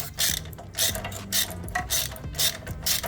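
A ratchet tightens a nut and lock nut on a lift kit for a Jeep Wrangler LJ, giving a close run of quick rhythmic clicking strokes in several bursts.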